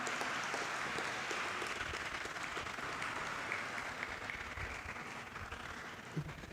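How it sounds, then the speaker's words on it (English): Applause from the audience at an inter-school debate competition rolls on continuously but sounds distant and faint, a soft wash of clapping that thins slightly toward the end. "May we have a thunderous applause."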